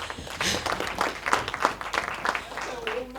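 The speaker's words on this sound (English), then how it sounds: "Please give a round of applause." A round of applause for a speaker being welcomed, scattered clapping that rises and falls in uneven bursts while people talk over it.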